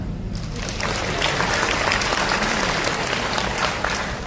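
A church audience breaks into warm applause, steady clapping that swells quickly and holds for several seconds.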